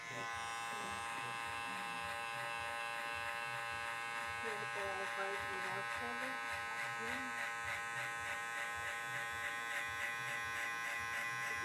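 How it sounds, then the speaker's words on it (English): Gamma electric hair clippers with the lever fully open, cutting hair during a low skin fade, giving a close, continuous steady buzz throughout, with a faint voice beneath. "So these are my Gamma clippers with the lever all the way open."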